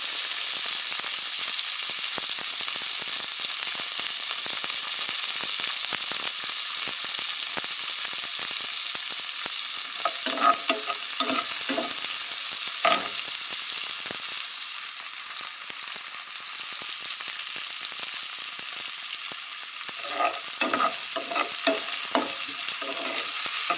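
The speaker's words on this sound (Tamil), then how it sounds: "மிளகாயும் வெங்காயமும் பச்சை மிளகாயும் நல்லா வதங்கி பாருங்கள்" Onions and green chillies sauté in a pan with a steady, loud sizzle of frying. Scraping stirring strokes cut through it in short clusters partway through and again near the end. The sound stays close, with no speech.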